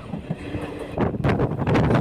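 A train in West Bengal rolls across a railway bridge with a loud, close rumble that swells into rhythmic metallic clatter, mixed with wind buffeting.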